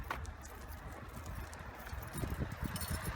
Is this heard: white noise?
no